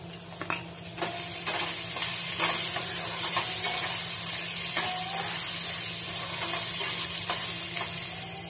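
Spice paste and green chillies sizzling loudly in a hot pan for matar paneer, a steady bright frying hiss with occasional spoon scrapes and stirring clicks, no voices.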